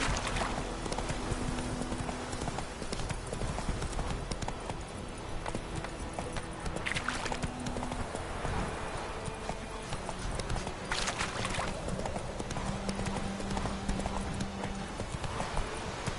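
Roach, a horse in the video game The Witcher 3, clip-clops along at a steady trot, with rhythmic hoofbeats under faint ambient game sound and occasional talk.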